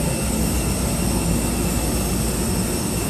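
Steady, loud engine roar from a Vietjet airplane at an airport in Ho Chi Minh City, a continuous broadband rumble and hiss with no break and no voices.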